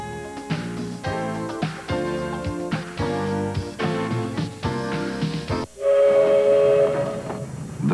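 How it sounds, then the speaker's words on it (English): The Venice Simplon Orient Express rolls along with a steady, rhythmic clatter of wheels over rail joints, then a long, loud steam-style whistle sounds at the end. "The Venice Simplon Orient Express."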